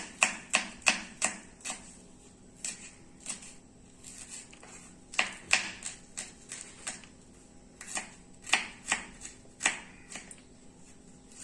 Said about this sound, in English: So I will be chopping this garlic.